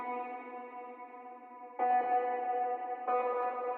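A heavily filtered synth-like tone with its lows and highs cut and squeezed by OTT compression, sounding thin and distant. It plays three sustained chords, each new one stepping in louder with a sharp onset.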